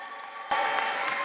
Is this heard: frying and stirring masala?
no